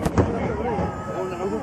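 Fireworks at the Kumano fireworks festival in 2012 give a sharp burst at the start with a crackling tail, heard under nearby conversation.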